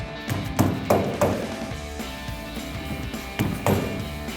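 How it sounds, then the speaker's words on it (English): Mallets tap a rear drop shackle into place on a 1999-2018 Chevrolet Silverado 1500 during a lowering kit install, giving about half a dozen sharp, close knocks at uneven intervals. "If you need to, use a couple mallets. Just watch that grease fitting. Tap it into place."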